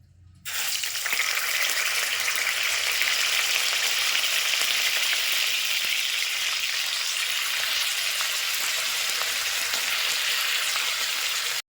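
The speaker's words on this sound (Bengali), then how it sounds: "তো চলো ফুলকপিগুলো ভেজে নিই এক এক করে।" Cauliflower pieces frying in hot oil: a loud, dense, continuous sizzle that starts abruptly and holds steady throughout, close up and with no voices.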